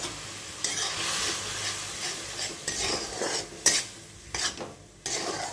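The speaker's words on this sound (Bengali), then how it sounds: "এবার এতে আমি বেটে রাখা টমেটো, শুকনো লঙ্কা আর রসুন কুচিটা বেটে রেখেছিলাম সেটা দিয়ে দিচ্ছি।" Ground paste of tomato, dried red chili and garlic sizzles in a hot pan on a home stove, a steady hiss broken by several sharp bursts and scrapes as it is stirred, close and fairly loud with no talking.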